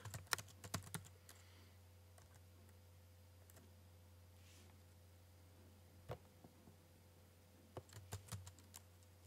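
Fingers tap an email address into a computer keyboard, with quiet clicking keystrokes in a burst at the start, a few scattered presses, then another short flurry near the end, over a low electrical hum.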